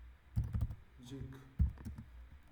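A computer keyboard clicks in two short bursts of typing as a message is entered in a simple Python chat app. A voice is heard between the bursts.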